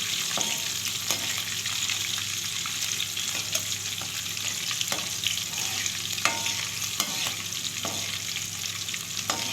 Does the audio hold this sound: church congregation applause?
no